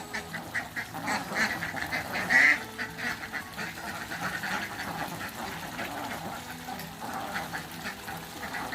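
Ducks on a Thai duck farm quack repeatedly in a busy, overlapping chorus at moderate distance, with one louder burst near the middle and water sounds faintly underneath.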